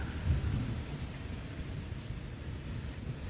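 Rain falls steadily in Ottawa in July, a soft, even hiss of water with a low rumble underneath, heard outdoors without talk.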